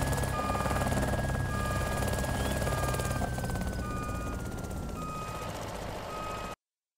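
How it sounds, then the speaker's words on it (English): A helicopter flying in the video game DayZ gives a steady, loud rotor thrum and whine that holds throughout, close by, before cutting off abruptly at the end. "I think this chopper's trying to shoot me down."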